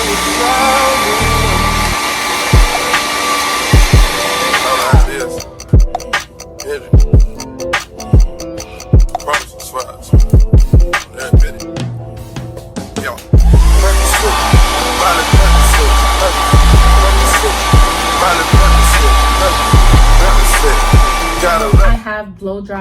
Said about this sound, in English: I have blow dried my hair